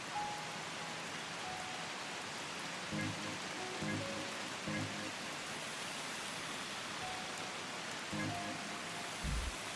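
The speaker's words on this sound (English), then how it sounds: "Maybe the rain isn't right." Steady rain hisses in the video game Old Skies, a dense even wash that runs throughout, with a few low thumps and brief tones rising beneath it.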